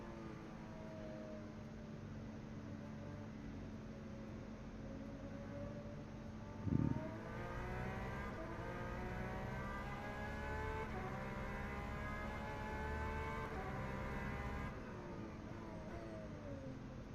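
A Porsche 911 engine in the rFactor 2 sim at Circuit de la Sarthe drones steadily and rises through repeated upshifts, with a brief thump partway through, at moderate level and alone.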